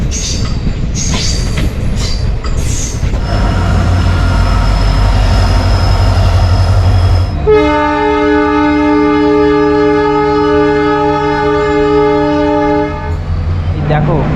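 A train rumbles at Bagrakot railway station in North Bengal with squealing wheels, then a loud sustained horn blares for several seconds; brief talk is heard near the start.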